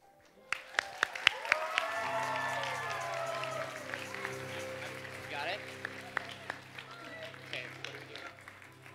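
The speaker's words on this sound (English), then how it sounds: "One more round of applause for all the fantastic people on stage here today." Audience applause following a stage show finale, steady clapping filling the room at moderate level with a few sharper claps standing out, while a voice speaks over it.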